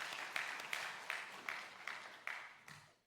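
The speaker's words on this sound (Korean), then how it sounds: "하나님께 영광의 박수를 올려드리겠습니다" Congregation clapping during a Sunday afternoon church service, a quiet, roomy rhythmic clap with about seven slow, evenly spaced beats over a soft wash of sound.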